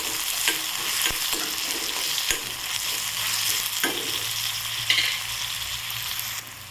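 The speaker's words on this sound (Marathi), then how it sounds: "टोमॅटो घालायचा आणि याला 5 मिनिट परतून घ्यायचं" Tomatoes, added after onions, sauté in a pan for a masala Maggi dish, steady frying sizzle with frequent scraping stirs and a few sharp clicks of the spoon, close up and without speech.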